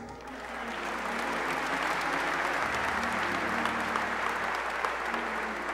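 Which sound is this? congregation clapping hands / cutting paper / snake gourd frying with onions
congregation clapping hands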